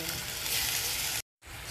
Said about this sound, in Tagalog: Fry nyo lang siya.